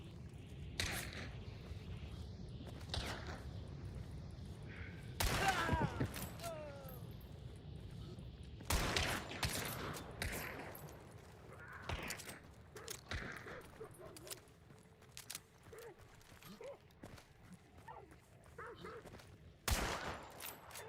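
Gunfire in the Hunt: Showdown video game: scattered sharp rifle and pistol shots, some in quick bursts, some distant, spread across a quiet ambient background with faint rustling movement.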